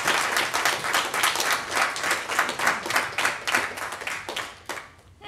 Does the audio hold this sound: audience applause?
yes